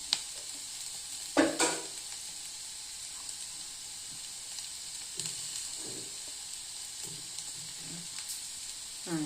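Chili powder fries in hot oil in a pan while being stirred, giving a soft steady sizzle and hiss with occasional scraping stir sounds, close and fairly quiet, with no talk.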